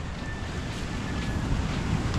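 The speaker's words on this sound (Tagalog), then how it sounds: "Ang laki ng alon." Large waves surging onto a beach beside a hut being eaten away by sand, heard as a steady, loud broadband roar of surf with wind rumble throughout, no talk.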